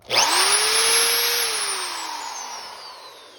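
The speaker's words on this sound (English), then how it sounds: "I went out and got the Harbor Freight hammer drill, corded half-inch hammer drill" A corded half-inch Harbor Freight hammer drill whirs up sharply to a loud, high steady whine, then slowly winds down in pitch as it coasts to a stop.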